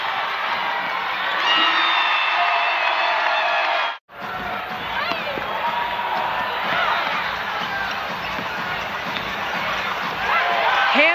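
Basketball arena crowd at a WNBA game between the Las Vegas Aces and Phoenix Mercury roars and whoops loudly and continuously, with a brief cut, then renewed cheering and sneaker squeaks under it.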